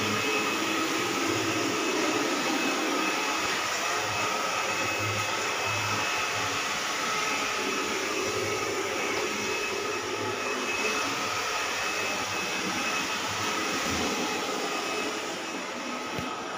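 A vacuum cleaner on carpet drones continuously with a steady, loud whine and rumble, shifting slightly as it moves, with no talking.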